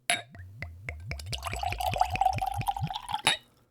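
A drink glugs out of a bottle into a glass, a rapid run of a dozen or so close, distinct gulps rising steadily in pitch as the glass fills, with no talking.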